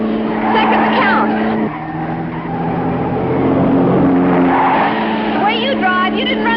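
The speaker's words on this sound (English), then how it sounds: "Now step on the gas after we hit the curve." A sports car engine roars and revs as it accelerates, with tire squeal through a curve, continuous and loud, while a voice talks over it.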